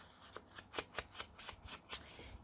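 Paper journaling cards are handled and shuffled at close range, producing a quiet series of crisp, rhythmic rustles and flicks, about ten short bursts in quick succession.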